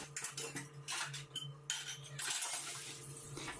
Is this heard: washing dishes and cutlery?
yes